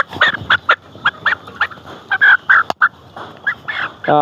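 A flock of layer hens raised for eggs cluck and chatter in rapid, overlapping bursts, close and loud, with no speech over the calls.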